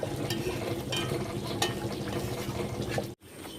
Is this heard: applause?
no